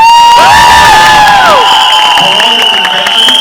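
Loud crowd cheering and whooping at a film trailer launch event for the team, a dense roar with high shouts and whistles sustained throughout.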